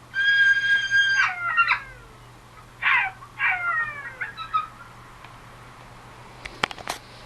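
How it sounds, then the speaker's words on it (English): A loud side-striped jackal howling cackle of harsh, cackling yelps and wavering howls in several bursts, greeting its mate, followed by quieter calls and a few sharp clicks near the end. "The dog over there is the side-striped jackal. He welcomes his mate with a loud howling cackle."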